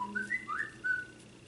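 A phone notification plays a short whistled tune, a few rising and falling tonal notes, fairly faint against a quiet room with no talking.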